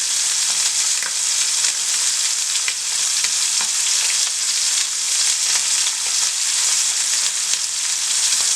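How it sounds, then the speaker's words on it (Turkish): Loud, steady sizzling of chicken fillets frying in a hot pan, a dense continuous crackle with no talking. "Tavuklarımızı bir tarafını kızarttık."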